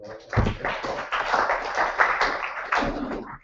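Spectators at a chess championship give a short round of applause, a dense burst of clapping that swells and dips and carries on the whole time at a moderate distance.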